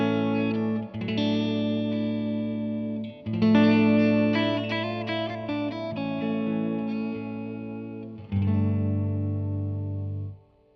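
Fender Telecaster electric guitar played through a Supro Black Magick Reverb amp, sustained chords ringing out with rich lows and reverb, three strummed phrases with brief pauses between them, clean and alone.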